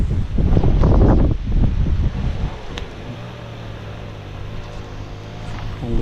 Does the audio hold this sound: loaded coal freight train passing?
no